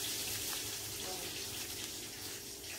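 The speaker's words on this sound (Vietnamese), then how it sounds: "nó bị hơi xì nước ra xíu nữa các bạn, cũng không sao" Water trickles out of a slightly leaking plastic bag holding a pair of Red Fancy betta fish, a faint, steady hiss and dribble throughout.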